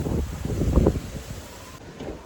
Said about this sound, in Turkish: Ulan rüzgar esme be.